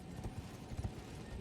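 A horse's hooves thud in the game Elden Ring, a few soft, muffled hoofbeats under low rumbling ambience, with no talking.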